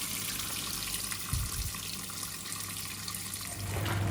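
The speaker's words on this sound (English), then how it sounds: "Pour in a little bit more water." Water pours steadily into a Hoover 800RL twin tub washing machine set to high, a continuous close hiss and gurgle filling the tub throughout, swelling slightly toward the end with no talking.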